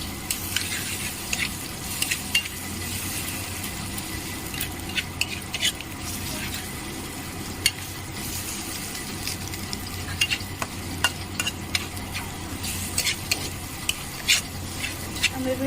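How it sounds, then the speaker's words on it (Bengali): Masala Maggi noodles sizzle and fry in a pan while being stirred, giving a continuous crackling hiss with scattered scraping and clicking strokes throughout, close and moderately loud. "আমরা এগুলো ভালো করে নেড়ে ছেড়ে"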